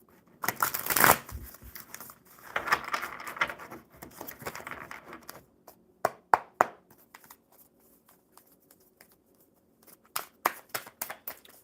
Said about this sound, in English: one more good shuffle for you, Sadeka.